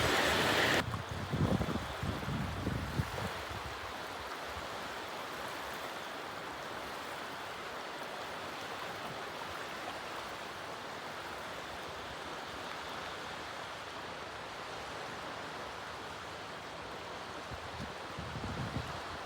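Steady broadband wash of sea waves on the coast at Rayong, Thailand, continuous and fairly loud, with a brief louder burst at the start and no voices.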